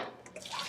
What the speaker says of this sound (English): I'm going to just run a little bit of cold water over them.